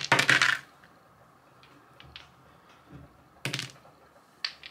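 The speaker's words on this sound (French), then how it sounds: "Je vais vous faire les dés ici." Dice tossed for a reading clatter in a sharp burst at the start, followed by a few scattered lighter clicks and rattles, close and fairly loud against a quiet background.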